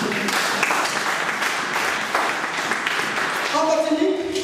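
A church congregation breaks into applause to acclaim God, a dense wash of clapping with voices rising over it and a sustained sung or shouted tone near the end.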